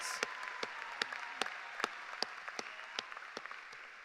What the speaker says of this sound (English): please join me in a round of applause for these amazing graduates